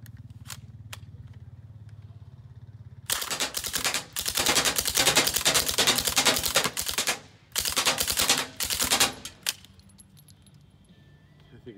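A rapid-fire gun, handed over as a shotgun and holding 30 rounds, blasts in dense bursts outdoors after a quiet stretch, with a pause between two volleys and a few lone shots before and after.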